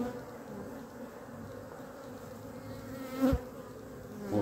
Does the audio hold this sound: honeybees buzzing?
yes